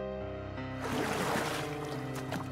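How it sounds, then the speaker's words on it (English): A motorboat engine drones and builds as it throttles up and approaches, a steady tonal hum swelling into a louder rushing wash of engine and water, with no voices. "An engine cranked, throttled up, and I watched the boat begin towards me."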